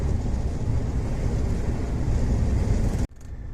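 Strong wind buffets a truck on a road in light rain at about plus 5 degrees, a loud steady roar with road rumble filling the scene, cut off abruptly near the end.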